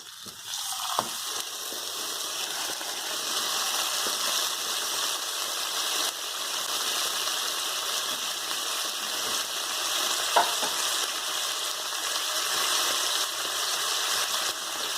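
Pineapple-glazed ham slices sizzle steadily in a hot pan, with occasional soft knocks as they are tossed and turned. The frying stays close and even throughout, with no voices.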